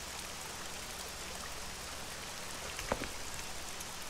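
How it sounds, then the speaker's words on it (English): Rain falling in the survival video game SCUM, a soft steady hiss of drops during a hunt, faint and even throughout with one small tap near the end. "Look at us hunting in the rain."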